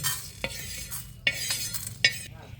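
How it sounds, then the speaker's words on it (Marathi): Mustard seeds dry roasting in a pan for pickle spice mix, stirred with a utensil: a soft crackle runs underneath while several sharp scrapes and clinks of the spoon on metal come through close and alone. "थोडीशी मोहरी भाजून मोहरी पण चांगली भाजून घ्यायची"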